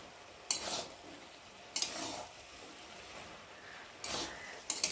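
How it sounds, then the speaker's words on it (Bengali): Bottle gourd and gati taro curry is stirred in a cooking pot, with four short, close scraping bursts spaced irregularly over a quiet background. "আর এখানে একটু ভালো করে নেড়ে দেবো।"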